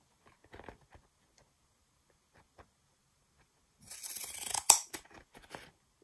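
Scissors snip through a beeswax-treated cloth wrap in a short, close burst of crisp cuts, preceded by a few faint handling ticks.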